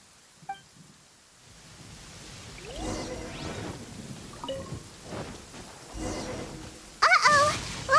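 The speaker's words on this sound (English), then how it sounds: "Uh-oh! Lightning storm!" A lightning storm in the game Genshin Impact brings soft rain hiss and low rumbling thunder that builds over several seconds, capped by a sudden bright electric crackle near the end.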